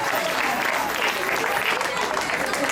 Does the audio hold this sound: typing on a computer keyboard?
no